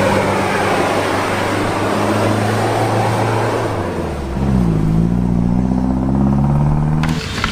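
Toy off-road car producing a steady electronic engine hum with tonal bands that shift and rise partway through like a revving motor, loud and continuous with no talking.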